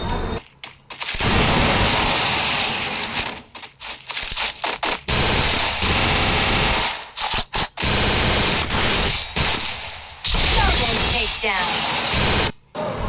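Rapid gunfire bursts from the Free Fire video game in a 1 vs 2 custom headshot match, loud and dense, with shots crackling in clusters separated by brief gaps.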